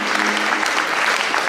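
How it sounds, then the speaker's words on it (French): A live audience at a company client day claps in dense, loud applause that continues without a break for the whole short moment. "On peut applaudir Corinne Bidot et puis Rocco sur scène."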